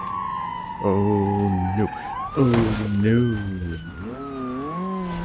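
A police car siren in the BeamNG.drive driving game wails and sweeps up and down, loud and close, alongside a straight-piped engine note, while someone briefly speaks over it.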